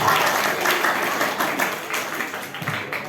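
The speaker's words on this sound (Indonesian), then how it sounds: "Tepuk tangan dong buat kita semua." Audience at a school anti-bullying workshop for seventh graders in Jakarta clapping together, a dense, steady round of applause lasting a few seconds with some voices mixed in.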